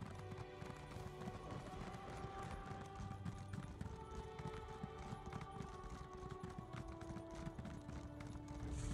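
Horse hooves clip-clopping in the video game The Elder Scrolls Online, a steady rhythmic trot repeating throughout over a busy layer of game ambience and music.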